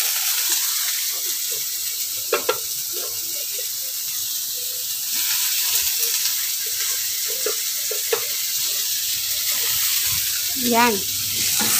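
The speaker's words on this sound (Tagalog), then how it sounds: "Haluin natin, halukayin natin mabuti." Sliced ampalaya (bitter gourd) frying in a pan gives a continuous hissing sizzle, with intermittent scrapes and clacks of a spatula tossing it; a voice speaks briefly now and then.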